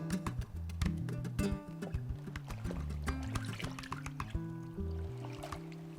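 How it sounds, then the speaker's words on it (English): Naturally dyed tie-dye fabric being rinsed in water after its rubber band is removed, heard as soft splashing and trickling under low background sounds and tonal music at an outdoor creek culture festival. "I'm taking out this rubber band right now and I am just rinsing it"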